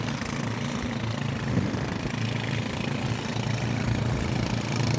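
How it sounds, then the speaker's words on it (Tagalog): Motor boats race around at sea, their engines producing a steady droning buzz at moderate distance, continuous with no talk. "Naghahabulan yung mga bangka."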